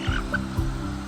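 A chicken clucks in short, low, evenly spaced calls, three soft bursts close by with a faint hum underneath.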